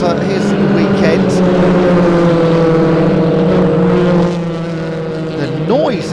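Heavy racing truck engines roar loudly and continuously at Thruxton circuit during a British Truck Racing Championship race, with a pass-by swelling near the end, under a commentator's voice.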